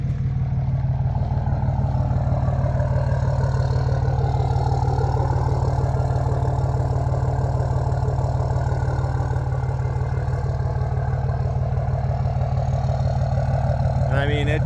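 A 5.9 Cummins diesel engine idles steadily and close just after startup, a deep constant rumble, with speech-like sounds faintly over it.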